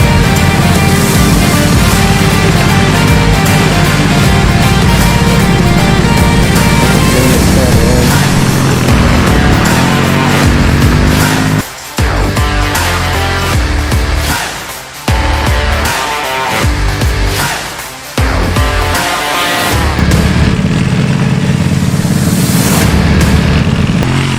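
Ford Mustang drifting, a loud, sustained engine roar with revving and tire noise that briefly dips a few times between throttle bursts, with voices mixed in.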